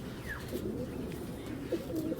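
Pigeons coo low and steady at a loft, a continuous murmur of soft calls with a brief higher note near the start, faint and without talking.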